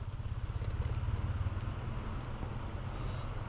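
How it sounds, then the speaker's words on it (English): A car or motorcycle approaching on a road during a bikepacking rest stop outdoors, a low rumbling engine noise that builds slightly and stays steady, faint and distant under wind, with no talking. "Sounds like a car is coming, or a motorcycle."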